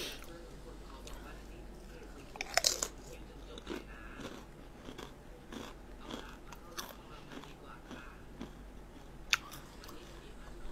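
Quiet close-up chewing and biting of Thai curry with sweet vegetable leaves and straw mushrooms, with soft wet mouth sounds and occasional sharper crunchy bites scattered through.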